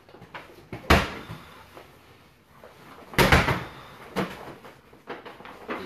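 A weighted exercise ball is slammed to the floor during a boot camp workout, giving two heavy, close thuds about two seconds apart, then lighter knocks and bumps.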